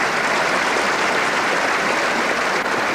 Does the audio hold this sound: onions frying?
no